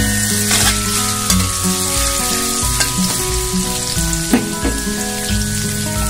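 Sliced shallots, garlic, ginger and lemongrass fry in a pan with a loud, dense sizzle, broken by scattered crackles and spatters and some scraping as the pieces are stirred.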